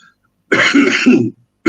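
Someone clears their throat with a rough, close-up cough lasting under a second, followed by the start of another cough.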